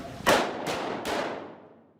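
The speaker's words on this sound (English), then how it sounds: "sound of gunfire rippling through the halls of Cooperstown High School is a sound that no one wants to hear." Three sharp cracks of simulated gunfire about a third of a second apart in high school hallways, each ringing out with a long echoing tail bouncing down the hard corridor.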